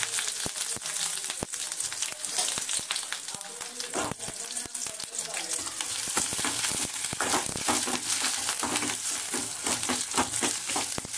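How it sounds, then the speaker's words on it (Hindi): Fenugreek seeds crackle and spit in hot oil in a light kadhai while making kadhi pakoda, a dense, continuous sizzle packed with sharp pops, loud and close throughout. "तो ये डाल दिया मैंने मेथी दाना इसमें, और ये तड़क गया है"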